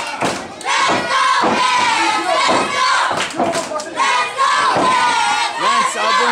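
A wrestling crowd roars and cheers around a tag match, loud and continuous with shouts and thuds from the ring, while commentators talk over the noise throughout.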